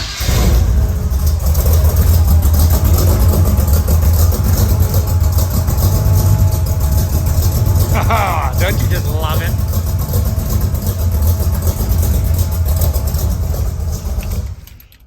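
A vehicle engine, not the TL1000S motorcycle, idling loudly and steadily nearby with a noisy fuel pump whining through it, running for most of the stretch before cutting off at the end; a person speaks briefly over it.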